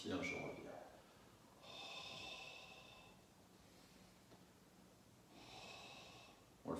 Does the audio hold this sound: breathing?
yes